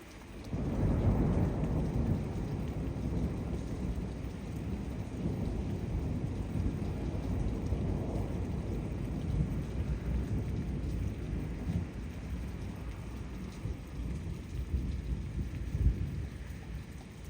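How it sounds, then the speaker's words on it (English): A thunderstorm rolls in: rain falls in a steady, dense wash for the whole stretch while low thunder rumbles in long swells beneath it, loudest near the start and again toward the end. "a thunderstorm came through and gave me a nice light show"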